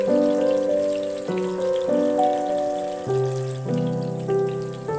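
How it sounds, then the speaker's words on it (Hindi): Chicken and grated potato kababs fry in a pan over low heat, giving a soft, steady crackling sizzle that runs continuously beneath clearly audible background music. "ये एक तरफ से गोल्डन ब्राउन होने तक हम फ्राई करेंगे।"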